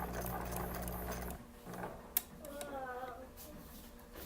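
A sewing machine stitching a Halloween candy tote bag hums in a short burst, then stops as fabric is shifted, with soft clicks, a sharp tap and a quiet voice speaking afterward.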